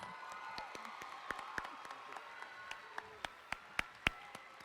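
Sparse, scattered hand claps from a quiet audience at a high school graduation ceremony, individual sharp claps standing out against a faint room murmur, growing slightly louder toward the end.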